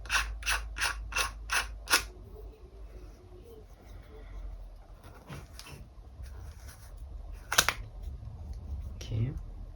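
A camera lens is screwed on with a run of sharp, evenly spaced ratcheting clicks, then quieter fiddling and a few scattered clicks and taps nearby, with a voice heard faintly.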